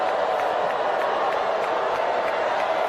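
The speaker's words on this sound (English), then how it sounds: "The crowd is erupting. They're outraged right now." A large crowd at a Kamala Harris rally roars in a dense, steady wash of voices, loud and continuous throughout with no single voice standing out.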